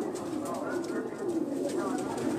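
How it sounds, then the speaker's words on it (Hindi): Cream-eyed pigeons gathered on a rooftop coo in a continuous low, burbling murmur, with a voice faintly audible beneath the birds. "ये हमारे पास जितने भी कबूतर हैं ना आप देख रहे होंगे, सारे क्रीम कलर के आंखों के कबूतर हैं।"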